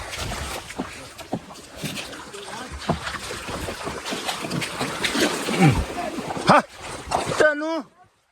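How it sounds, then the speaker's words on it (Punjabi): Someone wading through knee-deep floodwater in a rain-drowned paddy field, with sloshing, splashing steps close by under continuous outdoor talk from a man, and wind in the background. "ਹੁਣ ਤਾਂ ਤੁਰਿਆ ਨਹੀਂ ਜਾਂਦਾ ਪਾਣੀ ਦੇ ਵਿੱਚ"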